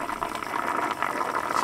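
Water pours into an RV's fresh water tank with a continuous, fairly quiet gurgling rush that keeps an even level throughout.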